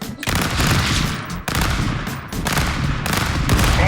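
Dense, continuous rapid gunfire bursts from the Stick Fight video game, loud and close, with brief pauses between volleys and no talking.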